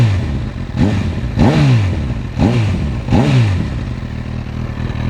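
Honda CB1000R motorcycle with an aftermarket Akrapovic-style exhaust revved hard close by, four sharp throttle blips each rising and falling over a rumbling idle.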